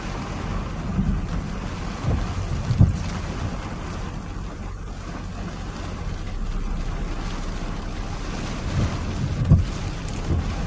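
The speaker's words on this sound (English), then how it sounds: "Raining pretty good," Rain and gusting wind from a Wisconsin summer thunderstorm make a continuous rushing roar, with low wind rumble against the microphone and occasional sharp knocks.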